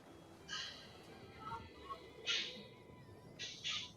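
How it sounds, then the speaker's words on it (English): Three short, shrill seagull cries from a game sound effect ring out in separate bursts over a quiet background, each a harsh squawk lasting under half a second. "Is that a seagull sound effect?"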